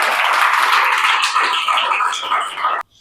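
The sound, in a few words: audience clapping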